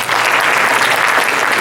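An audience applauds at an anniversary gala, a loud, dense and continuous burst of clapping filling the room for a couple of seconds.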